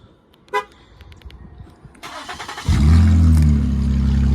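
A short horn toot, then a car engine with its exhaust resonators cut off cranks and starts, settling into a loud, deep, raspy idle that rumbles steadily close by.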